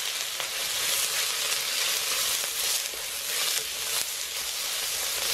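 Minced pork sizzles in a hot pan with chilli for Thai pad krapow, a loud, steady, continuous frying hiss with no voices over it.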